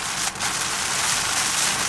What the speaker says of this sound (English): the rain finally hit